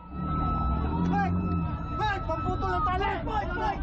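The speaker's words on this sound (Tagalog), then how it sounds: "Maririnig din ang mga malalakas na sirena." Loud sirens wail amid a noisy crowd, with overlapping voices and shouting throughout, during a China Coast Guard confrontation with Philippine boats at sea.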